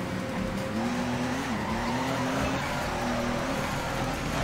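A car drifting in the Torque Drift video game, a loud sustained tire squeal wavering in pitch over a continuous engine drone, near and steady throughout.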